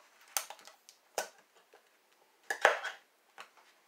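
A knife punctures and pries open two cans of creamy mushroom soup in a kitchen, a few sharp metallic clicks and scrapes spaced irregularly, close and fairly quiet.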